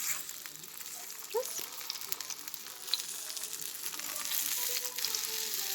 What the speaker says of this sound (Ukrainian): І ось вони смажаться так